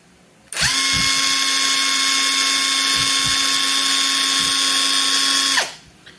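Ronix 8906K impact driver spinning freely at its second speed setting, a loud high whine that starts abruptly, holds a steady pitch for about five seconds and then winds down.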